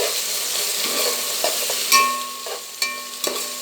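Ginger garlic paste and whole spices frying for egg biryani, stirred in a pan under a steady sizzle, broken by a few ringing metal knocks of the spoon against the vessel, close and alone.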